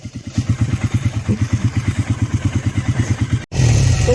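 A Loncin LX300 motorcycle rides off-road through an autumn forest, its engine thumping in a fast, steady rhythm close by, then cutting out briefly before surging back louder as the throttle opens.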